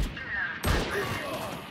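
Gunfire from the Valorant video game, a burst of shots fired mid-match over background game sound, with a sharp loud crack near the middle of the short stretch.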